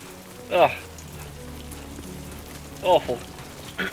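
Rain in the video game Death Stranding 2, a soft constant patter under a voice, with a few short louder bursts cutting through.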